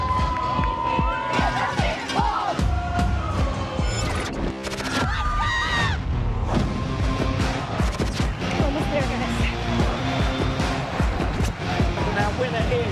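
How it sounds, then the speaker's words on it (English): A dense, loud crowd roars and cheers along the course of the Toronto Waterfront Marathon, shouts and whoops layered continuously throughout with a commentator's voice speaking over the din. "Listen to the noise. This is absolutely deafening. These are the best crowds we've ever had in Toronto."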